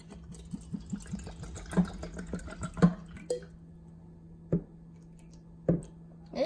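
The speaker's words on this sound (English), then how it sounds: "Let's pour some water in." Spring water from Sedona Springs in Arizona trickles and splashes into a small test cup in a series of short, close drips and pours, with a faint low hum underneath.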